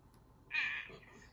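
A short single meow in a children's animal-naming game, faint and brief, with quiet talk around it; the call is likely voiced by a person imitating a cat.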